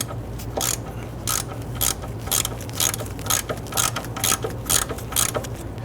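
A hand ratchet loosens a 10mm bolt on the frame of a 1999-2004 Jeep Grand Cherokee during brake hose work: a steady series of about ten crisp, close clicking strokes in regular rhythm.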